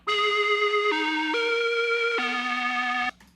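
Synthesizer lead patch made in Ableton playing a slow melodic line of a few long held notes that step up and down, bright and harmonically rich, ending with a sudden stop and no other sounds.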